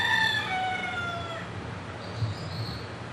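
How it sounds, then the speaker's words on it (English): Several roosters crow in the distance at a busy rural compound, their long falling calls overlapping through the first second and a half, then fading into steady low background rumble. "the roosters are doing their job to get everybody up"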